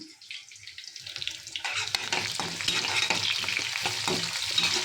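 Fish curry ingredients hit a hot pan and start frying, a quiet start that swells into a busy crackling sizzle, with watery splashing mixed in.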